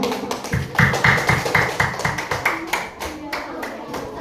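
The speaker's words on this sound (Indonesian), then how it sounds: "Tepuk tangan untuk kelompok" Applause for a group of students after their classroom presentation: a short burst of brisk, close hand clapping from a small audience, with some talk mixed in.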